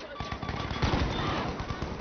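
Rapid machine-gun fire rattles in a multiplayer shooter video game, a dense continuous burst with a muffled, compressed quality and a voice talking over it.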